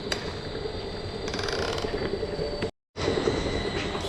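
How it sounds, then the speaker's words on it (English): A wooden cold-press oil machine (marachekku) grinds seeds into oil without heat, giving a steady rattling, clanking mechanical drone that runs continuously and stops briefly for a moment before resuming. "Without heat and all, we are producing the oil from this machine."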